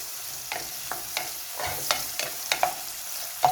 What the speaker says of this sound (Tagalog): ihalo haloin lang natin para maluto na sila guys